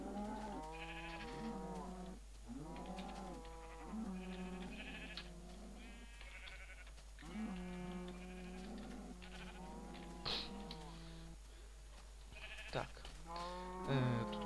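Repeated sheep bleats in a Minecraft-style video game, several animals calling in bursts and overlapping one another, with a steady low hum underneath; no talking.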